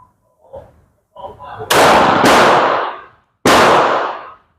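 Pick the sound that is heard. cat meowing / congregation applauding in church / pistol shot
pistol shot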